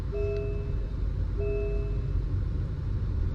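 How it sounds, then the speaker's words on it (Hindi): An MG Astor 2024 with a CVT automatic slowly gathers speed, a steady low engine and road rumble inside the cabin with two short electronic chimes near the start. "आप देख सकते हो ये गाड़ी धीरे धीरे स्पीड पिकअप कर रही है"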